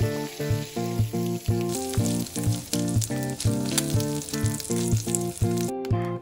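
Pork belly sizzles and fries in a pan for pancit bato, a steady crackling hiss running underneath rhythmic background music throughout.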